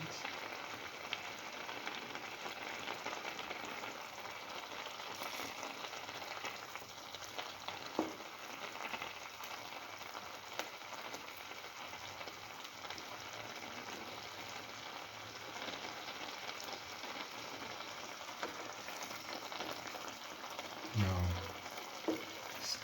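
An egg cooks in a pan of rice and cucumber mixture for scrambled egg coconut rice, giving a soft, steady sizzle throughout with a brief stirring scrape near the end.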